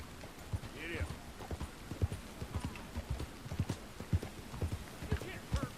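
Horse hooves pound in a fast, regular galloping rhythm in Red Dead Redemption II, moderately close and punchy, with voices talking faintly over the hoofbeats.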